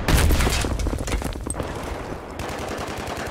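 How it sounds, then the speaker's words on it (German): Machine-gun fire aimed at a tank in the video game Battlefield 3, a loud, close stream of rapid shots that stutter in quick bursts and keep going without pause. "Ich schieße einfach mit normaler Munition auf den Panzer."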